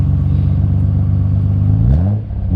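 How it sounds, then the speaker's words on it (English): The twin turbo engine of a 1990 Nissan Skyline GTR idles loudly nearby, then gets a quick blip of the throttle near the end, its pitch dipping and rising again. "Go ahead and rev it up just a little bit."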